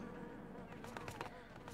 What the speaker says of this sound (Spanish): Voy a coger estas abejas que hay aquí.